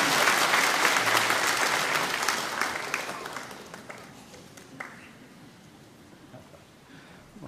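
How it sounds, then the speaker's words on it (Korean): A church congregation applauds a blessed child during a Sunday worship service, with dense clapping that is strong at first, then gradually fades and scatters into a few last claps. "우리 박수로 이 아이를 축복합니다."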